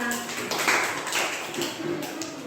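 A small class of fourth-grade pupils claps for itself during a lesson on Indonesian cultural diversity, a short burst of scattered hand claps close by, with speech heard alongside.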